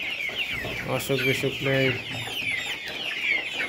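Layer hens in a farm shed cluck close by in short repeated bursts, with someone talking over them throughout.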